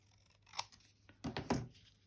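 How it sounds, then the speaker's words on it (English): Scissors snip through paper while making Christmas ephemera: a sharp cut near the middle, then two louder, close crisp snips with a papery tearing edge toward the end, alone against a quiet room. "I'm gonna see if I can just cut this with scissors."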